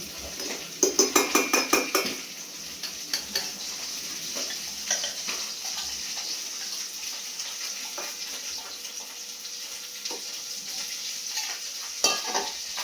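Pabda fish fry in a pan with a continuous gentle sizzle, while a quick burst of rapid clinking and scraping early on and scattered utensil knocks sound nearby.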